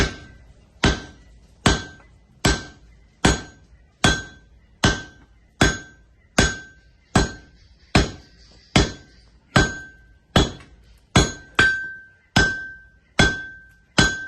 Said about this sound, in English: Using a big hammer.